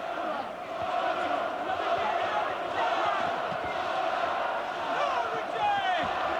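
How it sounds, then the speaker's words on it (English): A boxing crowd roars steadily behind Richie Woodhall in round 8 of his WBO super-middleweight title fight with Joe Calzaghe, loud sustained shouting and cheering with scattered individual yells rising out of the din. "The crowd urging Woodhall on"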